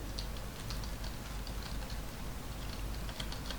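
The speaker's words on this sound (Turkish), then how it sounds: "Klavyeyi şu an vuruyorum yani. Bildiğin her tuşa basıyorum." Rapid, irregular tapping of computer keys struck hard at random while a horror-puzzle game is being played, a steady clatter of light clicks over a constant low background hum, with no talking.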